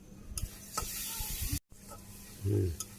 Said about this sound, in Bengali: এই যে আমার পেঁয়াজ কষানো হয়ে গেছে